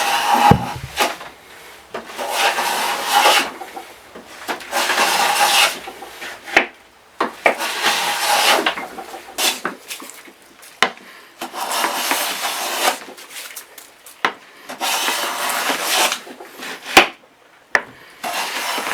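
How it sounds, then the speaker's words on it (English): A hand plane is pushed along pine boards, making long, rasping wooden strokes of a few seconds each. The strokes repeat steadily, broken by short pauses and knocks between passes. "is planing down the pieces nice and smooth and down to size"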